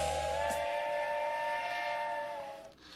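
A steam train whistle used as a sound effect, a loud sustained harmonic wail held for about two and a half seconds before cutting off.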